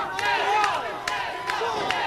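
Wrestling crowd at a live NWA event shouting and cheering, a swelling mass of voices with sharp whistles and yells cutting through, steady and loud from the arena.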